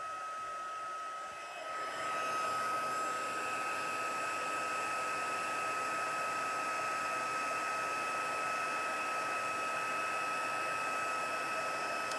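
Heat embossing tool blowing hot air over stamped embossing powder on a card, a steady loud whirring hiss with a thin whine, starting after a short quieter moment and running unbroken to the end.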